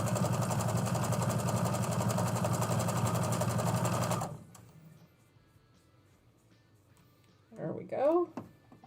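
A quilting machine runs with a loud, steady mechanical whir for several seconds, then cuts off abruptly, leaving near quiet before a short burst of voice.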